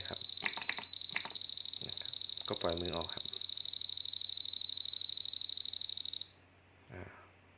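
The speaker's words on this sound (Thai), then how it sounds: "ต่อไปก็จะเป็นความดังของเสียงเตือนนะครับ" A loud, fast electronic warning alarm from a rev meter beeps continuously for about six seconds, then cuts off, with brief clicks and handling noises mixed in.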